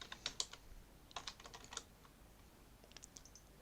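Quick bursts of computer keyboard typing while entering C++ code, close and crisp, with clusters of keystrokes early, a pause, then a few scattered taps near the end.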